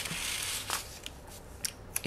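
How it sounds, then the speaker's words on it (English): Planner paper tears in a few short, faint rips and crinkles, separated by quiet gaps, close by. "kind of ripped my paper a little bit"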